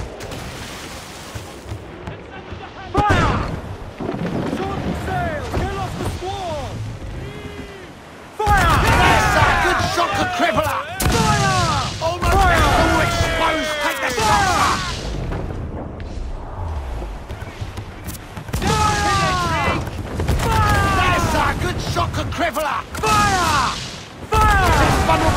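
Ship cannons boom repeatedly in a naval battle in Assassin's Creed 4 Black Flag, heavy blasts rolling in clusters over churning sea and combat noise, with voices shouting orders between volleys.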